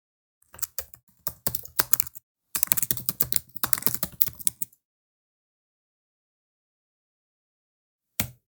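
Typing on a computer keyboard, close and crisp: two bursts of rapid key clicks separated by a short pause, then silence and one final isolated keystroke.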